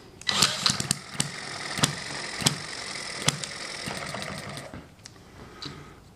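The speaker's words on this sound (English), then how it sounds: "to start the engine, you put this on here and you just push" A small Eachine hit-and-miss model engine is spun up with a cordless drill pressed against its flywheel rim, giving a close, loud, whirring mechanical clatter with sharp irregular bangs from the engine firing.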